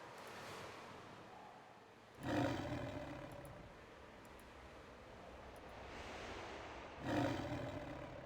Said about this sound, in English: Is that growling coming from nearby?